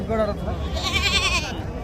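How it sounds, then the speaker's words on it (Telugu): Young goats bleat at the Gudur sheep and goat market, with a couple of close, wavering cries in quick succession against busy crowd murmur. "కోతు పిల్లలే ఇవి మేకలు ఏం కనబడలేదు ఈరోజు"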